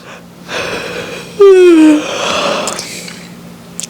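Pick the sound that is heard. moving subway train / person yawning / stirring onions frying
person yawning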